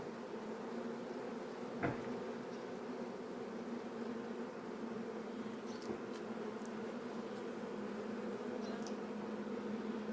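Honey bees from a hive frame buzz in a steady, low drone close by, with a few faint clicks and taps over the hum.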